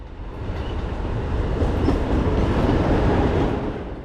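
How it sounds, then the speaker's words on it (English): An Amtrak Acela train rushes past near the tracks at South Norwalk: a loud, steady broadband roar that swells in quickly, holds for several seconds, then eases slightly at the end. "This Acela was a total surprise."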